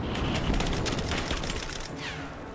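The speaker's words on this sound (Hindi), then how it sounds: "अच्छा ये सोफिया फायर कर रही है, बहुत बढ़िया हमें कवर दे रही है" Rapid automatic gunfire from Sofia in Rise of the Tomb Raider, a dense, loud volley of overlapping shots rattling continuously and close, tapering slightly near the end.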